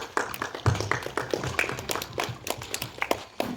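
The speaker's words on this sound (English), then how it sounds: "A very good round of applause for him." Audience applause at a school debate at Jejoses Academy, uneven scattered hand claps from a modest crowd, close and fairly loud, with a voice faintly present.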